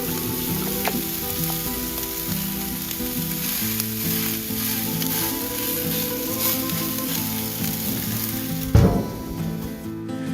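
Pork steaks sizzle steadily on a Blackstone griddle under a Sear'NSizzle grill plate, a loud continuous frying hiss with faint utensil taps and a brief clatter near the end.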